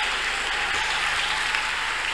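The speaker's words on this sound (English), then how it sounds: "Can we clap unto God and appreciate the clap unto God?" A church congregation clapping, dense and continuous applause filling the room at steady loudness, with no voices standing out.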